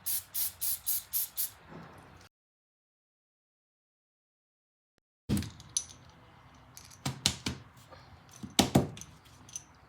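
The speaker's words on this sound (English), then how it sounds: "now I'm going to spray carb cleaner in there and put it back together" Several short, sharp hissing sprays of carb cleaner into a weed trimmer's carburetor in a quick rhythm, then a long silence, followed by clattering clicks and knocks close by.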